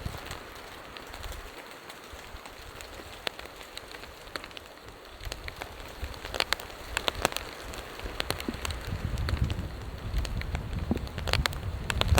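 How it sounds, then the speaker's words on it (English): Light rain pattering on a tarp shelter outdoors ahead of a thunderstorm, with scattered crisp drop ticks over a low steady hiss that grows louder and fuller toward the end. "It is raining just a little bit"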